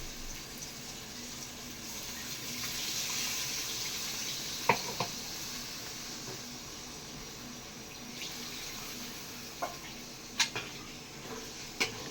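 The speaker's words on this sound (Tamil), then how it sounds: "இப்போ புளி ஊற்றிடலாம்" Tamarind water poured into a pot of drumstick and brinjal kuzhambu gives a soft, steady trickling wash, quiet and continuous, with a few faint clinks of the vessel and no talking.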